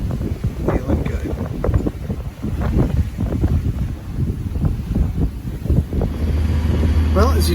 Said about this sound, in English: as you can hear, the engine's on again